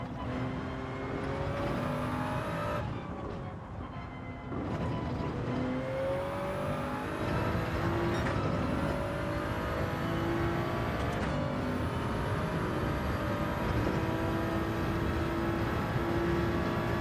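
A Toyota Supra race car in Gran Turismo 7 drives hard around a track, a loud continuous engine drone with shifting pitch as it accelerates and downshifts, tyres and wind noise beneath.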